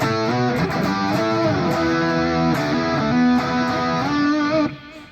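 A distorted electric guitar riff, played barred on an Ernie Ball Music Man guitar, thick sustained chords shifting in pitch, loud and close, then cutting off near the end.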